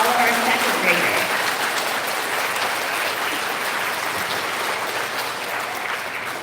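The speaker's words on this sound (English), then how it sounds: "Can we have a big round of applause for all of our second graders?" Sustained applause fills a school hall for second graders at an elementary student recognition ceremony, a dense steady wash of clapping from the audience that fades slightly toward the end, with no voices standing out.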